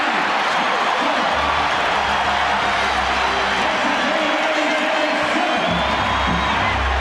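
Arena crowd at a 1995 Knicks vs Pacers playoff basketball game roars and cheers in a sustained, dense wash of noise with whoops, steady throughout and fairly loud.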